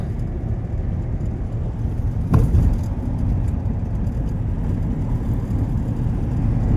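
A car drives along a road near a state border in Uttar Pradesh: a steady, fairly loud engine and road rumble runs throughout, with one brief thump shortly after two seconds and no talking.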